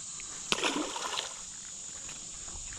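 A fish splashes as it is released back into the water from a fishing boat during swim jig fishing, a short, soft splash with a brief wet wash over steady outdoor background noise.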